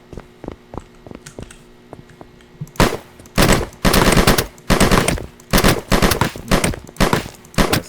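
Rifle gunfire in a first-person shooter demo: a few light early shots, then loud rapid automatic bursts with projectile impacts, repeated in short rhythmic volleys.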